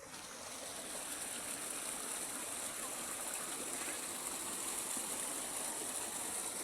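Water rushes steadily in a continuous broadband hiss from a small stream near rice fields, fairly faint and uniform throughout.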